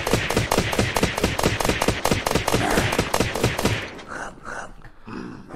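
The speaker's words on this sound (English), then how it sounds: "All those hit marker sounds. It burns through shells really fast" Rapid, evenly spaced gunfire in the survival video game Unturned, with hit marker sounds, fired loud and close for about four seconds before stopping, leaving fainter clicks and brief game sounds.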